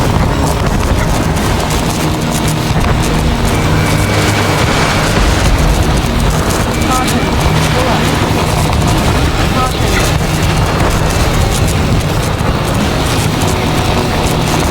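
In Ace Combat 7, a target is destroyed in a heavy explosion inside a constant loud wash of jet engine roar and combat noise, with radio voices talking over it.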